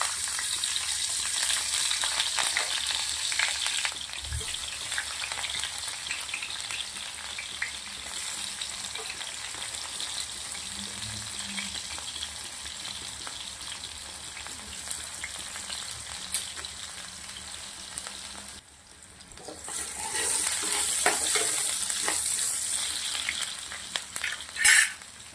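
Thinly sliced onions fry in a kadai with two spoons of cow-ghee butter and oil, giving a steady, close sizzle that crackles on for about twenty-five seconds, with a short dip and a few stirring scrapes near the end.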